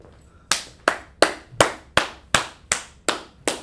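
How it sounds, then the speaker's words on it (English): Nine sharp hand claps in a steady, evenly spaced rhythm, close and crisp, with no talking, during a vocabulary and number lesson. "Put them hand claps in there"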